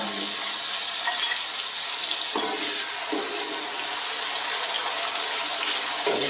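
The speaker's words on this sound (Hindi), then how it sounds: "अभी से थोड़ी देर हम चलाएंगे" Chopped tomatoes and chillies fry in hot oil in a pan while being stirred, a loud, steady, close sizzle with a couple of soft stirring scrapes and no voices.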